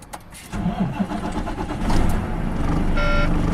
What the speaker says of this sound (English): Clutch in, check your gear shift, start your vehicle.